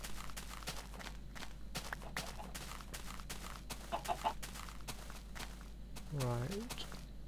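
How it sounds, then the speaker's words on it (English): A chicken in modded Minecraft lets out a short cluck near the end, heard over a steady patter of footsteps and a constant low hum. "I think it's just a chicken."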